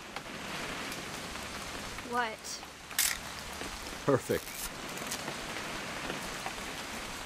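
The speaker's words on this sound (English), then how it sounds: "It's gonna rain the whole weekend, isn't it?" Steady rain falling on surfaces in the video game What Remains of Edith Finch, a soft continuous hiss underneath brief spoken exchanges and a camera shutter click.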